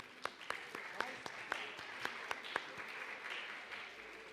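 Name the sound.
audience applause for the clarinet section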